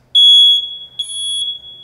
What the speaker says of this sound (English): when the smoke detector goes off